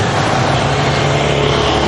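Dense road traffic in Vietnam, heard from a bicycle pulling onto a main road, gives a continuous loud wash of engine noise and motorbike hum with no clear gaps.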